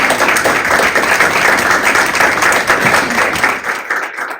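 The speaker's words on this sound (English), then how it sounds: "Please give a warm round of applause for my mom, Charie Ginete-Ilon." Warm, sustained applause from an audience at a book launch, honouring the author's mother, dense clapping that holds steady and fades slightly at the end.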